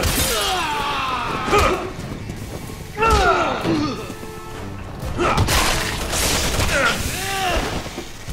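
Scattered gunshots and impacts crack through a Resident Evil 6 co-op firefight, short bursts mixed with thuds and breaking sounds, while voices shout and talk over the action.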